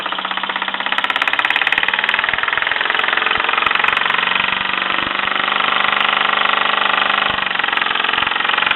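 A 1949 Mamod SE2 toy steam engine with a pressed steel long engine frame runs steadily close by, a loud continuous rapid chuffing and mechanical knocking with no voices over it.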